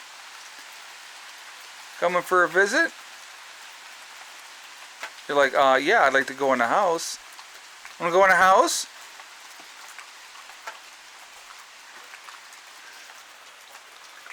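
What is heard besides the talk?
rain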